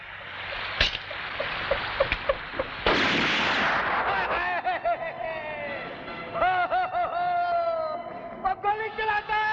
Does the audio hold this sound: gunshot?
yes